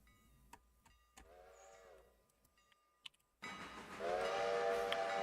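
Train in the Railroader video game, a distant whistle first sounding faintly, then a louder, nearer blast of the horn over rumbling, with scattered clicks in between.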